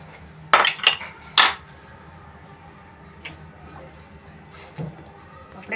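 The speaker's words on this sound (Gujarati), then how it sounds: "હવે આપણે કુકર ખોલીને જોઈ લઈશું ખીચડી." A steel spoon clinks and scrapes against a pressure cooker lid as it is opened on ridge gourd (galka) khichdi, giving a few sharp, close metallic clatters early on before quieter kitchen rustling.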